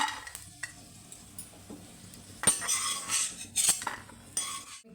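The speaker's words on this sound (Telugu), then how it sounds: "కలర్ చేంజ్ అయ్యేదాకైతే వేయించుకోవాలి చూడండి జీడిపప్పు బాదం పప్పులు అయితే బాగా వేగాయండి" Cashews and almonds fry in a pan for poha payasam, with a soft sizzle under sharper spatula scrapes and metallic clinks that grow busier and louder halfway through.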